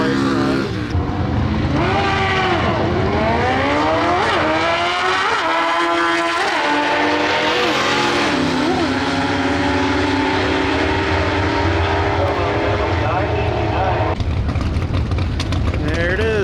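A drag racing snowmobile converted for asphalt runs its engine loudly and close, the tone rising and falling through several revs with a steady roar throughout, while a voice talks over it.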